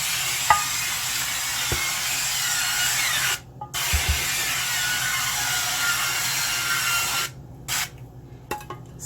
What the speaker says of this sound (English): So I'm gonna go ahead and spray it.